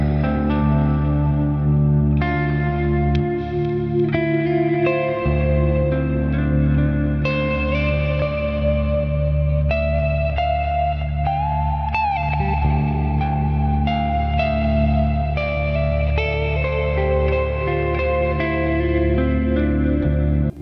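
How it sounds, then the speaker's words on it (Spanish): An electric guitar played through an amplifier set to clean tones with reverb rings out chords and single notes that bloom and trail off, a continuous melodic passage with no talking. "Pasemos a unos tonos más limpios con reverb."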